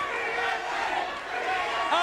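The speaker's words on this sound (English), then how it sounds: "this great crowd at the Asylum on their feet" A wrestling crowd at the Asylum roars and cheers during a TNA match, a dense, loud wall of voices that holds steady throughout with a commentator's voice mixed in.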